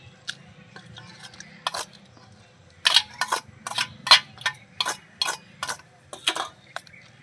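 A cabbage and egg mixture stirred in a cooking pan makes sharp, irregular clicks and taps as the utensil knocks the pan, over a soft low sizzle.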